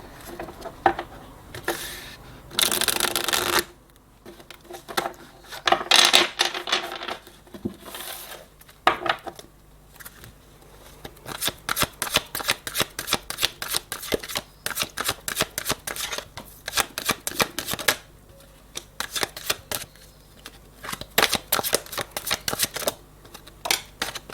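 Tarot cards shuffled by hand in long riffling bursts, a close, crisp flutter that runs almost without pause and stops briefly near the start.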